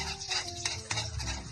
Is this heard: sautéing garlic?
yes